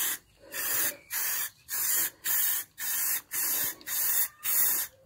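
A paint sprayer coats a Citroen C1 van in eight or nine even, regular bursts of loud hissing spray, each about half a second long and separated by short pauses, with no talking.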